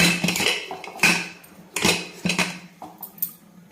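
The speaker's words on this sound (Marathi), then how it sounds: "तर आपण आता कुकरचं झाकण लावून घेऊ" A pressure cooker's metal lid is fitted into place during home cooking of mutton curry, giving a few sharp, close clanks and rattles spread across a few seconds, with no talking.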